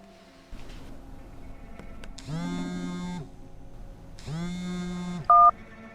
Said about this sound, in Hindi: चीफ का फोन है, चीफ का फोन है।